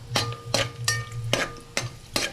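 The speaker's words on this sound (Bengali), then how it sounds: "দিয়ে একটু হালকা হাতে নাড়াচাড়া করে দিই।" A spatula scrapes and tosses raisins and cashews frying in a pan in about six close, loud, evenly spaced strokes over a low background hiss, with no voices.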